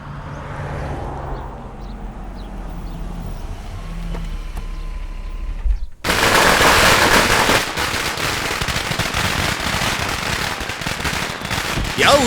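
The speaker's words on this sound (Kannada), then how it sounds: "ಯಾವ ಹುಚ್ಚಿನ ಮಕ್ಕಳು ಇಲ್ಲಿ ಪಟಾಕಿ ಹೊಡಿತಾರೆ?" Firecrackers bursting at a wedding: after a quieter stretch, a loud, dense run of crackling bangs suddenly starts around the midpoint and continues steadily to the end, close and harsh.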